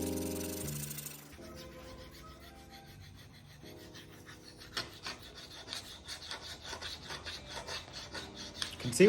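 A K390 high-vanadium steel knife drawn across a ceramic sharpener, making quiet, rhythmic rasping strokes that grow more frequent and pronounced toward the end.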